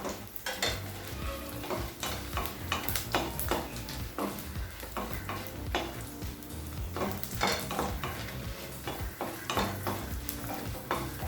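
Four dried red chillies and two Kashmiri chillies sautéing slowly in a pan give a steady, close sizzle, broken by frequent scraping of a spoon against metal, with no talking.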